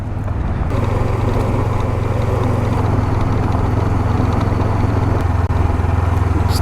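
Motorcycle riding through the Peruvian desert, a loud, steady engine drone with wind rush that holds constant throughout, no talking.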